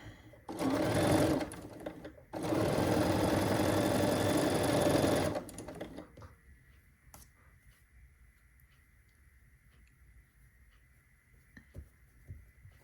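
A sewing machine stitches fabric in two bursts of loud, steady whirring, the second lasting about three seconds. Quieter handling and faint clicks follow.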